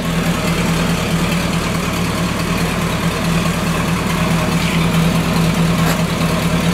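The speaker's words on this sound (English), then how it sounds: "they just have that glass pack type of sounding exhaust to them." Hummer H2 with a glass pack exhaust idling, a steady, loud, low droning rumble held throughout with no speech.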